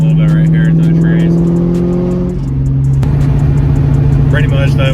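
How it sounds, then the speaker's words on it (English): A Ford Mustang GT (New Edge) engine drones steadily from behind trees at moderate distance, a sustained tonal hum that shifts pitch briefly midway, with faint chatter and outdoor noise layered over it. "you can hear the car a little bit right here through the trees."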